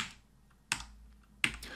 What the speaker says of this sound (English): So as I start typing,